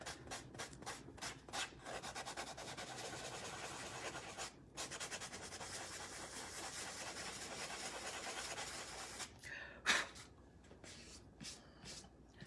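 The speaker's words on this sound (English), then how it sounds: "I'm just gonna sand some of the little boo-boos where where it rolled" Boots with a heat transfer design are hand sanded in steady, close rubbing strokes that run almost continuously, broken by brief pauses and a few sharper scrapes near the end.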